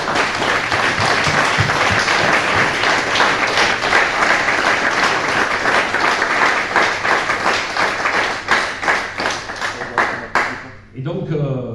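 A congress hall audience at a trade union meeting claps in loud, sustained applause for about ten seconds. The clapping thins into scattered final claps and falls silent.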